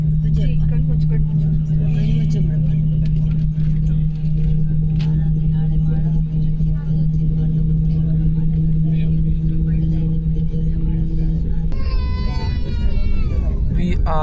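Airliner jet engines on an A320 spool up while taxiing, a loud steady low drone with a strong constant tone running throughout, heard from inside the cabin, with a rising whine near the end.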